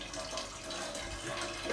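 Water from a shower head runs as a steady, moderately loud broadband hiss and patter with no voices, continuing throughout without an audible shut-off.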